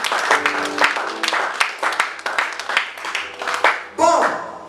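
A church congregation claps in uneven bursts to praise the Lord, mixed with voices and cheers, and a final sharp surge of clapping and shouting at the end.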